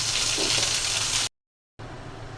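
Onion frying in oil sizzles in a steady, bright hiss, cut off by a brief silent gap before resuming more softly.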